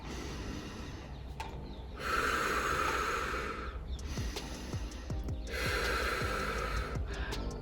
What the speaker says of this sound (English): normally when we breathe into our lungs